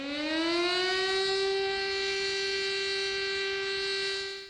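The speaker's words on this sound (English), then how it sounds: "Sirens sounded while mourners at the Memorial Hall of Victims observed a minute of silence." A civil defense siren wails at the Nanjing memorial ceremony for victims of Japanese aggression, a single loud sustained tone that rises briefly at the start, then holds steady and strong before tapering at the end.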